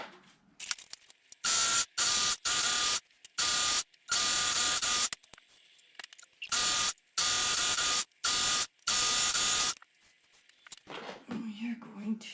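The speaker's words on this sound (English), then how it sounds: "I am going to serge around the edges with my serger" A serger sewing machine overlocks the edges of leather jacket lining pieces in a series of loud, close, rapid whirring bursts separated by short pauses, with faint handling sounds in between.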